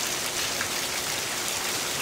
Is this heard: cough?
no